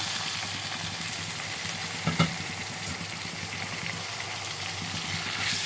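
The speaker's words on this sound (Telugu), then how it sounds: "ఇప్పుడు చికెన్ వేసేసుకున్నాం ఫ్రెండ్స్" Chicken pieces and gizzards sizzling in a hot pan, a loud steady frying hiss that fills the whole stretch, with one brief stir or clatter partway through.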